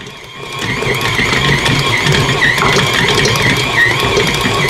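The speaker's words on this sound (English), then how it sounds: "This will mix the flour for you and knead the dough" Stand mixer kneading whole wheat pizza dough, a loud steady motor whir with a rhythmic churning texture that starts up after a brief quiet moment and runs continuously.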